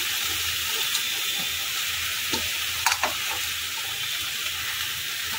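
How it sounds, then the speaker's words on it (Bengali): Ridge gourd pieces hit hot oil in a kadai for Bangladeshi jhinge shukto, a loud, steady sizzle close up with a few light scrapes and clicks of stirring. "এবার ঝিঙেগুলো সব দিয়ে দেবো।"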